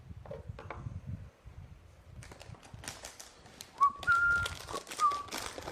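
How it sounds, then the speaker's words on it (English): A person whistles a few short, faint tonal notes amid quiet background clatter and rustling in an indoor room during a cheese tasting. "Shouldn't really whistle, should I?"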